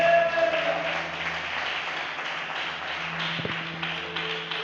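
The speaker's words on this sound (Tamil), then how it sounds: "ஒரு கைத்தட்டி கர்த்தரை மகிமைப்படுத்துங்க பார்க்கலாம்" A church congregation at a Tamil Christian revival meeting claps hands in praise, a sustained even patter of applause with a faint low hum and tones beneath it.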